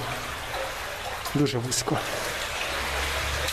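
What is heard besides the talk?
water flowing in underground river tunnel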